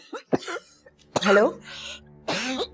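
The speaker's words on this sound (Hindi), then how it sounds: "अचानक से खांसी शुरू हो जाती है, फिर खत्म ही नहीं होती" A woman coughing in a drama scene: a few sharp, close coughs in quick succession, mixed with brief spoken words and throat sounds.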